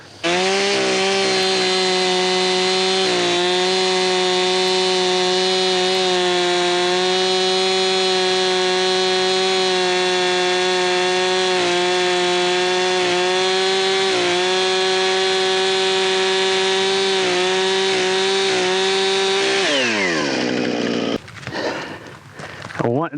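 A chainsaw runs at a loud, steady whine while cutting into a tree trunk during felling, its pitch dipping slightly as it bites into the wood, then winds down near the end.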